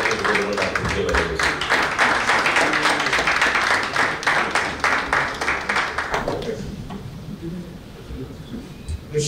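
Audience applause for minister Arnaud Omar at a ceremony in Benin, dense clapping for about six seconds that thins into scattered claps, with an announcer's voice alongside.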